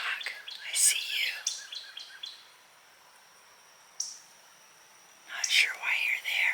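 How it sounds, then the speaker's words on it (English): A hawk screeches outside a window: a run of sharp, piercing cries, then a quiet gap broken by one brief call, then another loud burst of screeching. "He's just been screeching around."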